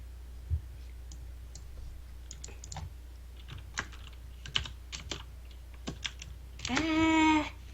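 Rapid, irregular clicking of keys on a computer keyboard during a tabletop role-playing podcast session, close and fairly quiet, in uneven bursts over about eight seconds, with a brief louder tonal sound near the end.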